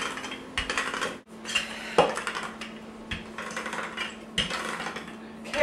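Pumpkin pie crust dough being rolled out on a surface, giving soft repeated rubbing and knocking strokes with occasional sharper taps from the rolling pin, close and moderately loud with no talking.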